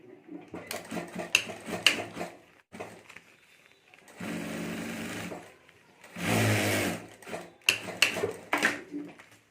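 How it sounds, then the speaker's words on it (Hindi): A domestic sewing machine stitches a seam across the top of a handmade wedding potli bag, running in two steady whirring bursts between softer handling clicks and fabric rustles, close and fairly loud. "तो यहाँ ऊपर मैं एक सिलाई कर देता हूँ।"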